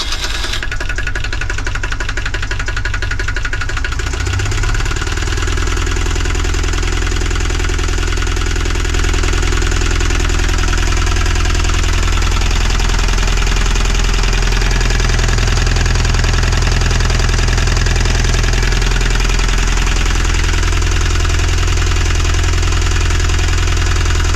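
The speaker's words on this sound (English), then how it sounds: "I'm going to start the engine." A sailing boat's engine cranks briefly, catches after a few seconds, and then settles into a loud, steady, rumbling run with a rapid mechanical clatter throughout.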